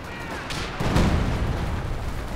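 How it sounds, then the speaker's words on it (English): Howitzer artillery in a World War II strategy game booms with a heavy, low rumbling blast about a second in, rolling out over a steady bed of distant battle noise at moderate volume. "So got that Howitzer getting busy once again."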